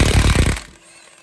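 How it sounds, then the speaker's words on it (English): A pneumatic impact wrench hammers on a 30 mm axle nut of a 2007–2013 Mini Cooper, a loud close burst of rapid rattling impacts for about half a second before cutting off. "we just have to get our socket on the impact"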